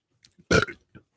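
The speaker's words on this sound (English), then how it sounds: "That's a belch." A single loud, close belch bursts out abruptly, a short guttural rasp with faint small mouth sounds just before and after.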